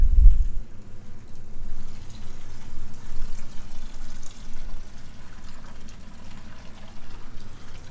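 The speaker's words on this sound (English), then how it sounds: "we turn on the valve, and then let it all drain out." Water drains from the valve of a VEVOR 10L stainless steel ultrasonic cleaner into a bucket, making a steady, low rushing pour that stays fairly even throughout.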